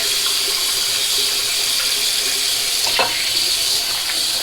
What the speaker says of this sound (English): I'm going to wash my face first with the Brute soap